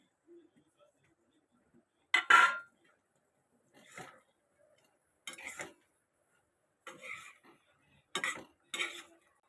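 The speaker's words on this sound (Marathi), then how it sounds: "आता मी पकोडे टाकते कोलंबीचे." Prawn pakodas tossed into a pan with onion and spring onion for kolambi chilli, heard as several separate bursts of scraping and clattering spoon on metal, quiet in between.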